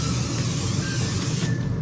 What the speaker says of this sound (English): I'm gonna spray it with some olive oil